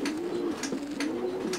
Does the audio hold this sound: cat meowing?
no